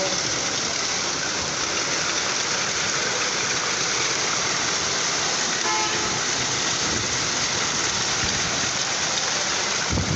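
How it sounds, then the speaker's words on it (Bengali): A heavy hailstorm with gusty wind roars as a dense, continuous wash of pelting and rushing noise, loud and unbroken throughout with no distinct voices. "প্রচণ্ড শিলাবৃষ্টি হইতেছে"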